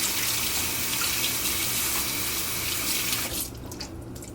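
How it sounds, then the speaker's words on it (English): A running water tap rinsing a makeup brush at a sink, a steady close hiss of flowing water that drops to softer splashing and dripping near the end, no talk. "I'm just gonna rinse it out."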